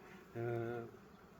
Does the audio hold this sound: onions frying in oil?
no